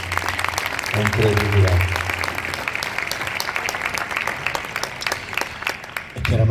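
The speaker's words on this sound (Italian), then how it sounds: "quindi farei loro un applauso" An audience at a book presentation in Cagliari breaks into sustained, dense applause that fills the room, while a voice speaks briefly over it.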